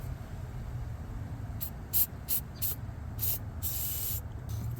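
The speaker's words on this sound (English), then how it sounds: "Give it a douse of silicone spray so it slides in nice and easy." Silicone spray hisses from an aerosol can onto a car coolant hose, a Ford Focus part, in about six short bursts followed by one longer spray, close and fairly quiet over a low background hum.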